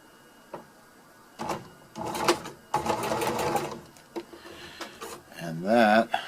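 A domestic sewing machine stitches a homemade pack cover in several bursts, its rapid mechanical whir starting and stopping close by, ending with a short rising run as the stitch line finishes; soft handling clicks fill the pauses.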